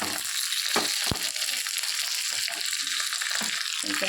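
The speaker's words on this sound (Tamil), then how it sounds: "எண்ணெய் ஊற்றி பெருஞ்சீரகம் போட்டிருக்கோம், ஒரு கைப்பிடி கருவேப்பிலை, கொஞ்சோண்டு சின்ன வெங்காயம் ஆட் பண்ணியிருக்கோம்." Fennel seeds, a handful of curry leaves and small shallots sizzling in hot oil for a Tamil crab rasam tempering, a bright hissing crackle with a few sharp pops, close and steady.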